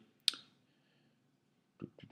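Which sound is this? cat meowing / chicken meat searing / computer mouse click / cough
computer mouse click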